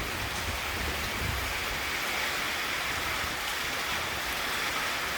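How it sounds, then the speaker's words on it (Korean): Heavy rain pours steadily during a storm in Chiang Mai, Thailand, a dense broadband hiss with wind noise, continuous and fairly loud, with no voices. "근데 얘는 비바람이 어마어마하게 셉니다"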